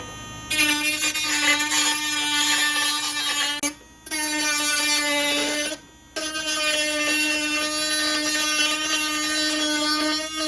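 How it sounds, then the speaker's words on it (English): A high-pitched whine of a Dremel rotary tool cutting a clear Lexan RC car body (Tamiya Lancia Delta Integrale), running steadily in three long bursts separated by short pauses, very close. "I use a Dremel stylo."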